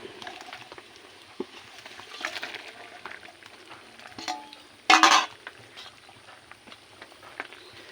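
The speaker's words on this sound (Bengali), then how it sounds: "এখন দিয়ে দেব ভেজে রাখা মাছগুলো" Fried fish slides into a simmering curry in a pan, bringing a brief loud splash and sizzle midway through amid soft bubbling, stirring clinks and low background noise.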